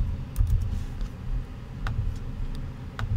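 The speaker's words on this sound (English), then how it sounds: "I'm then going to go in and type in Derrick" Typing on a computer keyboard with a few scattered, quiet key clicks over a low background hum, close and soft, with no talking.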